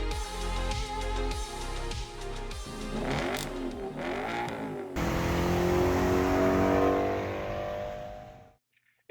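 A 4.2-litre V8 Audi S4 with a manual gearbox revs hard in a series of rising and falling pulls. It then settles into a loud, sustained roar that fades and cuts off near the end, with no talking.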